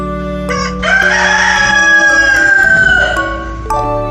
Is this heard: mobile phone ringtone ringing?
no